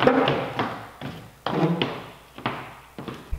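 Footsteps thump on the plywood bottom shelf of a workbench, several hollow thuds and creaks in an uneven rhythm, close and moderately loud.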